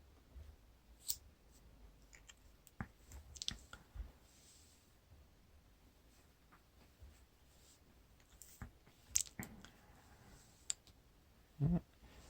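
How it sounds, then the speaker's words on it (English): Shadow cards dealt in the Lord of the Rings card game, a sparse series of quiet card slaps and clicks at irregular intervals, close and faint. "Deal out shadow cards."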